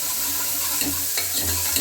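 Green chillies and onion frying in a pan for a traditional North Karnataka side dish, a steady close hiss of sizzling with a few soft stirring scrapes, no voices.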